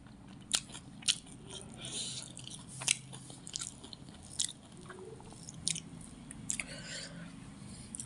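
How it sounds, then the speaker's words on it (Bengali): Someone eating lunch, with close, sharp bites and crunchy chewing at irregular intervals against a quiet background, with some soft speech. "তিনটাকে একসাথে করে আবার খাই"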